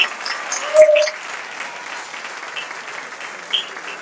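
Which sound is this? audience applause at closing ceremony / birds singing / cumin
audience applause at closing ceremony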